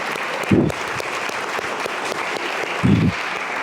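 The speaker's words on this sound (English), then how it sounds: "we should give a little bit of a round of applause to them" Audience applause at a CreativeMornings Lisbon talk, clapping filling the room steadily and close, with two brief louder swells, no voices.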